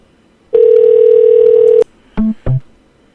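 A telephone line gives a long steady dial tone, then falls silent before two short tone bursts follow, all clear and alone with no voices, as a call is placed to a scammer's number.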